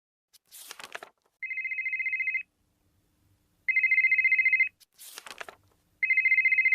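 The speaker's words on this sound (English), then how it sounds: "Do you mind turning off your phone?" A phone ringtone plays twice, each time a quick chirpy burst followed by a longer steady electronic trill, fairly quiet with short gaps of silence between the cycles.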